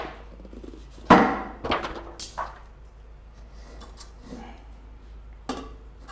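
A knife cuts into the metal of a paint can in sharp scraping bursts and clanks, one loud strike followed by a few softer scrapes and a final knock, up close with no talking.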